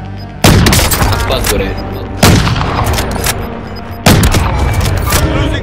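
Three heavy gun blasts in Call of Duty: Modern Warfare, each a loud sharp crack followed by a long rumbling tail, spaced about two seconds apart, with a voice talking briefly between them.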